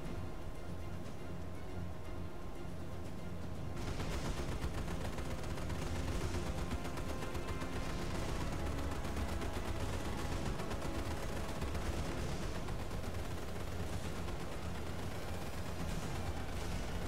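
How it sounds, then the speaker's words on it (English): Anti-aircraft guns firing from a ship in the naval video game Battlestations Midway, a sustained loud barrage of rapid bursts that kicks in after a quieter opening and continues throughout. "Concentrate AA fire on those Kates."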